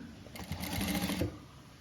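A sewing machine stitches a gown seam in a short, rapid burst of needle chatter lasting under a second, with a soft motor whir starting and stopping close by in a quiet room.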